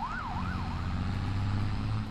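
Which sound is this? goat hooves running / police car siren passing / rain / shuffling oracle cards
police car siren passing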